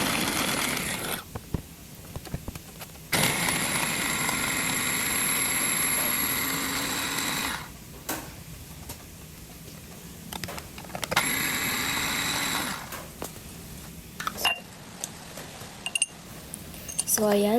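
A blender blends garlic in a kitchen in several bursts, each a loud, steady high-pitched whir that starts and stops abruptly, with clatter and short gaps in between.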